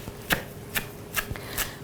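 A knife chops fresh parsley on a cutting board, four crisp, evenly spaced strokes about half a second apart, close and fairly loud with quiet kitchen sound between them.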